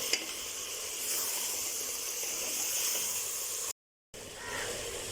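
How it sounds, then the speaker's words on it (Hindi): Mutton with ginger garlic paste frying in ghee gives a steady, close sizzle and hiss that runs continuously, broken only by a brief moment of silence near the end. "अब इसके अंदर भी हम तकरीबन 5 मिनट इसकी अच्छे से भुनाई करेंगे ताकि अदरक लहसुन जो है वो भी अच्छे से इसके अंदर भुन जाए।"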